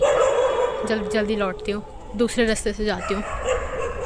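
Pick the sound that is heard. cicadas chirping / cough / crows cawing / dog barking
dog barking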